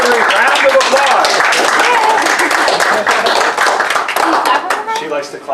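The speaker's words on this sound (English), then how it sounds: "A Rotary round of applause." Clapping from a crowd at an educators' welcome night held by a Rotary group, steady applause throughout with voices and chatter mixed in underneath.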